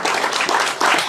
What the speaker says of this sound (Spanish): También pido un aplauso para mi editor.